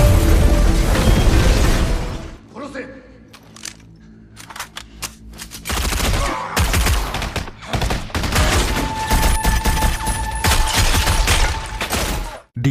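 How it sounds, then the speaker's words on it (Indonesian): Dense bursts of gunfire rattle through a movie shootout as hired killers attack a Macau police station, loud rapid volleys broken by a brief lull, then more sharp shots and impacts. "Di tengah aksi baku tembak"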